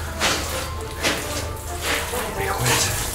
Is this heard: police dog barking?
no